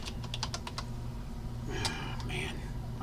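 Keys on a computer keyboard tap in a quick burst of clicks, then a pause before a few scattered keystrokes, close by with a low steady background hum beneath.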